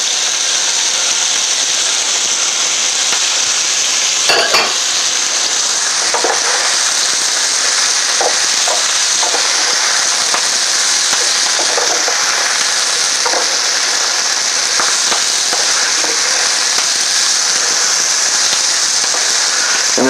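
Bok choy hits a hot pan with chicken in a stir-fry, giving a loud, continuous hiss and sizzle with a few scattered clicks and taps, no voices.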